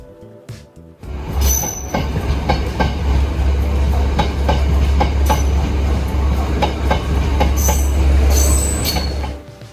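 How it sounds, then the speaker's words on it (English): A train rumbles loudly along the tracks in Bentota, Sri Lanka, with a heavy low drone, rhythmic clacking, and sharp metallic wheel squeals cutting through repeatedly, as it comes to a stop. "the train had just stopped"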